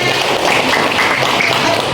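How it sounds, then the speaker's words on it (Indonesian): A classroom of students clapping hands in applause, a dense continuous patter of claps close by for a couple of seconds without any talking. "Oke, tepuk tangan."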